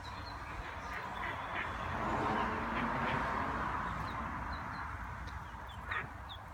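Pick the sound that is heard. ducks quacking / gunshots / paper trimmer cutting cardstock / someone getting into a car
ducks quacking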